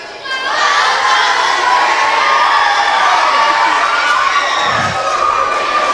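Young crowd at a back-to-school pep rally erupting in loud cheers and shouts, many high voices yelling together in a sustained, close, energetic roar that swells at the start and holds steady.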